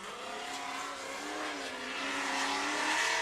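A supercharged 703-horsepower V8 drift car accelerates hard at a British Drift Championship qualifying round at Teesside. The engine note climbs loud and close, and a sustained tire squeal builds over it, with no talk.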